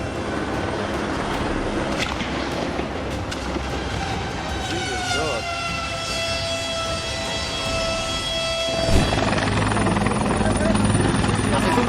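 Loud helicopter rotor and engine noise fills the scene, with shifting tonal whines and a sudden change in the roar near the end as the blades collapse in a crash.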